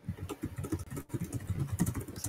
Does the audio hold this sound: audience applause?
no